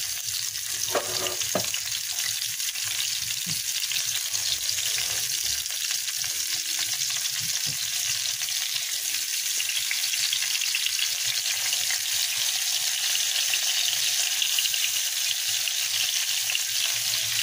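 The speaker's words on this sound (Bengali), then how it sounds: "এখানে প্যানে তেল গরম করতে দিয়েছি, আর মাছগুলোকে আমি ফ্রাই করে নেব" Koi fish fry in hot oil in a pan, giving a loud, continuous crackling sizzle that holds steady throughout, close up, with a few faint clinks near the start.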